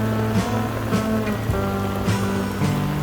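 Heavy downpour on a windy Taipei street, a dense steady hiss of rain hitting pavement and an umbrella close by, with no voices.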